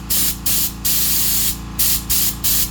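Air bursts spraying out of the drain valve on a Kobalt 2-gallon air compressor tank, six short loud hisses in a stop-start rhythm, close up, with a low background hum between them.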